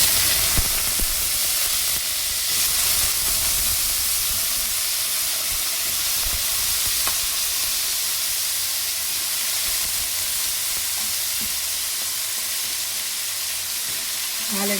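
Garlic sizzles in hot oil for dry toor dal sambar, a steady close frying hiss with faint crackle running throughout, no talking.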